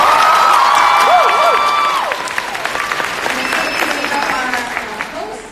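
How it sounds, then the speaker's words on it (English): A live audience bursts into loud, sustained applause with cheers and whoops at a speaking event, the clapping dense and steady before tapering off slightly toward the end. "Please get another round of applause."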